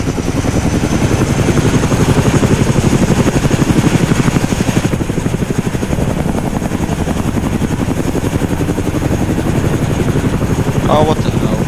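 Continuous loud helicopter rotor thump and turbine whine in the ARMA 3 video game, a dense, rapid chopping pulse that stays steady and close throughout, with a faint blip near the end.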